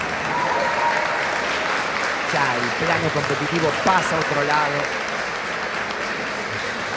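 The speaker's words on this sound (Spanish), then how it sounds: "Y los aplausos en el pabellón de combate" Sustained applause fills a large indoor taekwondo arena at the Santo Domingo 2026 games, steady and broad, while a voice talks over it in the foreground.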